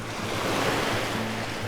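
Ocean waves wash steadily onto the beach at Clam Pass in North Naples, Florida, a continuous broad surf roar with light wind noise across the microphone.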